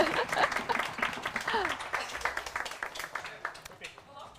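A crowd applauds and cheers at a live startup demo day event in Kyiv, dense clapping that rises and then thins out, mixed with whoops and voices.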